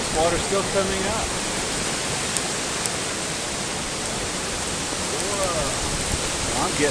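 Rising flood water rushing through debris of logs and tree stumps, a steady loud broadband roar filling the whole stretch without break, with a voice faintly in places.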